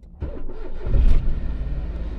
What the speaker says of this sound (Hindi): अभी गाड़ी स्टार्ट करने वाला है